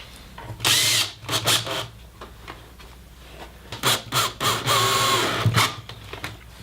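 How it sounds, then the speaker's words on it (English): Close-up power drill driving a screw into a wooden birdhouse in several short, stop-start bursts, the motor revving up and cutting off between pulls. "And put a screw in."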